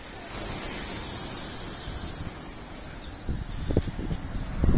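Sea waves wash onto the shore at Bognor Regis seafront in November, a broad rushing surge under gusty wind on the microphone, building louder toward the end, with a faint bird call.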